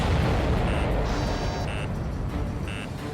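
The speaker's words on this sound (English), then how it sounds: "Did you see that explosion? Looks like that's one of them down." An enemy aircraft explodes in the combat flight game Ace Combat 7, a loud, dense roaring blast that fills the whole stretch and slowly fades, with short electronic cockpit beeps sounding over it.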